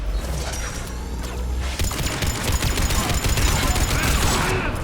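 Gunfire in the video game Mass Effect 3: dense, rapid bursts of shots crackle and clatter continuously, growing heavier midway, with mechanical clanks mixed in.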